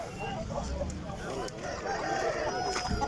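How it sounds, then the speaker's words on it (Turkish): Roosters, fighting cocks, crow amid a busy outdoor animal market in Adana, Turkey, their calls rising over a constant murmur of crowd noise and scattered voices. "Horozlar."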